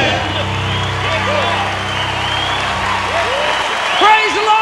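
A church congregation gives a round of hand claps of praise after a worship song, the applause rising over lingering music and voices as a person speaks.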